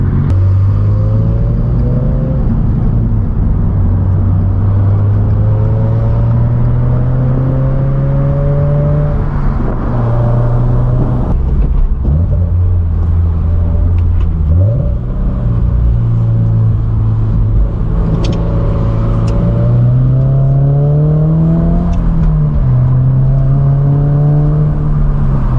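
A 2022 Subaru BRZ with an aftermarket front pipe rumbles loudly up close, its exhaust note rising and falling through repeated revs and gear changes.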